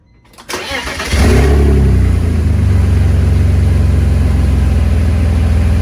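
A BMW E46 engine with no exhaust fitted, only catalytic converters, cranks and catches, then settles into a loud, deep, raspy idle with a steady throbbing rumble.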